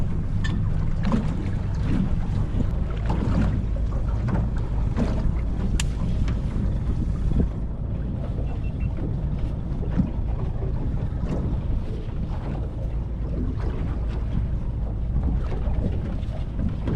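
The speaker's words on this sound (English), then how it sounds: "There are already hundreds of boats out here." Fishing boats out on the water in Osaka Bay in winter, a steady broadband wash of hull, water and wind buffeting the microphone, continuous and fairly loud with no talk.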